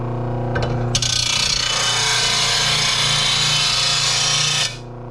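An RBG-712 blade sharpener grinds a dull blade with its disc flipped, a loud, steady abrasive rasping that starts abruptly after a brief scrape and runs alone for about four seconds before cutting off.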